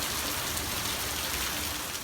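Steady rain falls, a dense even hiss of drops on a surface holding at one level for about two seconds, with no voices.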